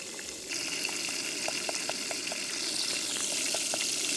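Chicken pieces deep frying in hot oil outdoors, giving a steady bubbling hiss with small crackles and pops, fairly loud and continuous with no talking.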